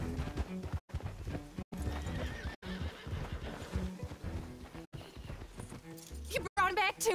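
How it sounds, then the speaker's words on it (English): A horse in the video game Red Dead Redemption 2 whinnies over clip-clopping hooves, with a music-like backdrop running under it. The neigh rises at the end, close and clear. "Oh, horse spawned in."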